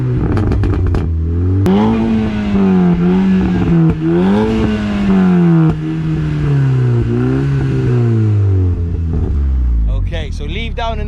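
An Audi S3 8P exhaust roars close up through a long, wavering rev held high and eased up and down, opening with a few quick blips and ending in crackling pops as it settles.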